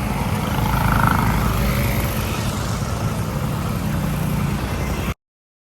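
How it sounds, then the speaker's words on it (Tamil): Dense road traffic at a city signal at night, with many vehicles passing; a loud, steady engine rumble and hiss close by fills the scene before cutting off abruptly. "இப்போ சிக்னல் பத்தில் நிற்கிது நிறைய வாகனங்கள் ரோடால் போய்கொண்டிருக்குது"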